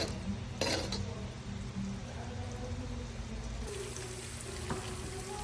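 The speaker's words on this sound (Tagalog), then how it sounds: "Gawas na yung oil." Hot organic coconut oil from the Philippines pours out of a bottle for a hair treatment, a steady close liquid stream over a dense, noisy background.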